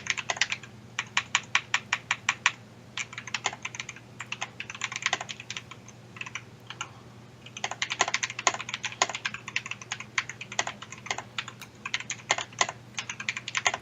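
Rapid typing on a computer keyboard during an esports match session, a dense run of clicky keystrokes in quick bursts with brief gaps, close and clear over a faint low hum, with no talk.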